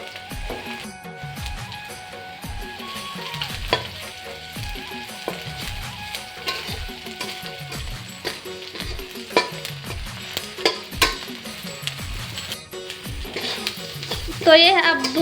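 Garlic frying and being stirred in a pan for a tangy Chhattisgarhi eedhar vegetable dish, a steady sizzle with repeated scraping strokes of a spoon, under a faint background voice.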